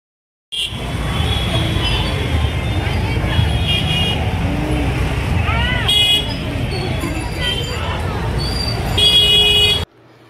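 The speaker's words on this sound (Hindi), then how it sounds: "रंगरेज गली आ चुके हैं और काफ़ी ट्रैफिक है आप देख सकते हैं" Busy evening street traffic in Rangrez Gali on Main Road, Ranchi, keeps up a dense, loud engine hum, with repeated car and scooter horn toots cutting through and crowd chatter mixed in.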